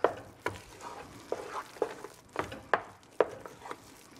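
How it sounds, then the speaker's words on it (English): Heavily salted food sizzling in a hot pan while a utensil stirs it; a series of distinct scraping strokes at an irregular, roughly half-second rhythm over a low continuous sizzle, close and alone. "Then we stir."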